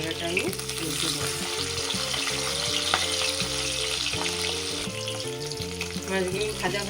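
Rohu fish pieces frying in hot oil give a steady, close sizzle through the whole stretch, with soft scraping and stirring clatter and a faint background tone.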